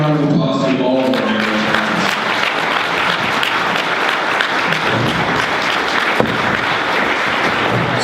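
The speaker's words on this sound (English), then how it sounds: "We need one final round of applause to all of them." Loud, sustained audience applause fills the room at the close of a mayoral candidate forum hosted by the Rancho Cucamonga Chamber of Commerce, steady throughout with a brief voice or cheer near the start.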